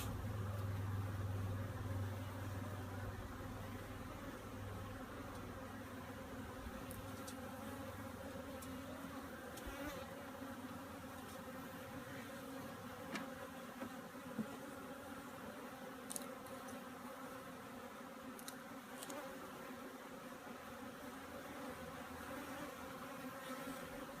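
Honeybees buzz around a Tanzanian top bar hive in a steady, faint, continuous drone, with a low background hum and a few soft ticks and bumps nearby.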